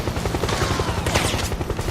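PMC airstrike in Metal Gear Solid 4: rapid, loud, rattling bursts like heavy gunfire, pounding in quick succession through a dense battle din.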